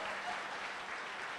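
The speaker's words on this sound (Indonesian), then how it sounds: "Berikan tepuk tangan buat dia." Brief, faint audience applause at a seminar in Indonesia, a short dense patter of clapping heard from a distance.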